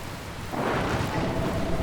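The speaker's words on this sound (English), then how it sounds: "Where did this rain come from?" Rain with rumbling thunder in the video game Dragon Quest Builders 2 swells in after a quieter half-second, then holds as a steady, loud wash of storm noise.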